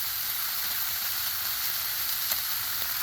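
Breakfast food sizzling on a Blackstone griddle, a steady, even hiss of frying that continues unbroken throughout at moderate loudness, with no voices.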